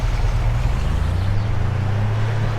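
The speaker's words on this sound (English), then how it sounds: "My truck sounds a bit rough." A rough-running truck engine idles with a steady, low, throbbing rumble, close and continuous throughout, with no voices over it.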